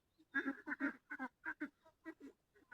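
Ducks from a flock of five hundred, raised from ten-day-old ducklings and now grown for sale, quacking close by in a quick series of a dozen loud, raspy calls with brief gaps.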